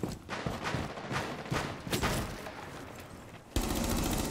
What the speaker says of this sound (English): I was tired of hearing him shooting